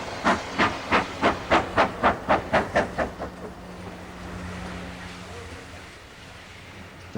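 A model GWR 4500 class steam locomotive on a layout chuffs in a rapid, even run of loud exhaust beats that fade away after a few seconds, leaving a low hum and faint background noise.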